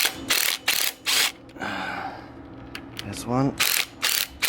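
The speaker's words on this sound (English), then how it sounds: "Now we're gonna have to take off this bolt and this bolt." Bursts of rapid ratchet clicking from a hand ratchet loosening tensioner bolts on a 4B12 engine, several short runs with pauses between, and someone speaking briefly in the middle.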